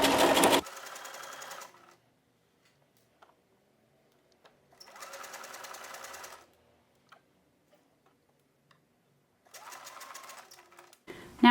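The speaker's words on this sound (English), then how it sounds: "we'll sew around the entire neckline edge" Sewing machine fitted with a walking foot stitching the neckline of a knit tee shirt, close rapid mechanical ticking in three separate bursts with quiet gaps between them.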